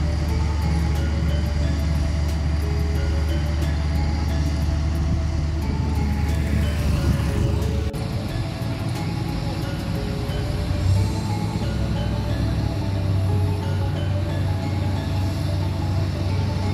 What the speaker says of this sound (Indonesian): Truk mulai berjalan mendekat ke arah dari konstruksi jembatan yang akan dipasangi dari balok-balok girder ini.